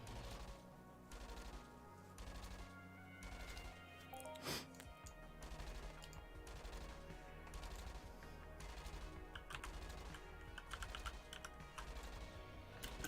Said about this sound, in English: typing in Entropia Life